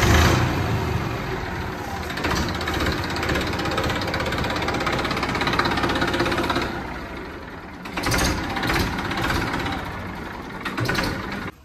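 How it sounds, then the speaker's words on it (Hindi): A 35 HP tractor engine idles loudly and steadily up close, its rough rumble dipping briefly before picking back up. "फिर एक बार इसकी आवाज़ सुनवा दो भाई, क्या शानदार आवाज है।"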